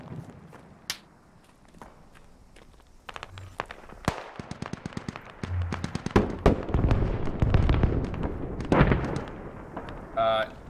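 In a video game, rocket artillery rounds fire in a string of sharp, loud bursts and cracks, some near and some more distant, with people talking over the radio throughout.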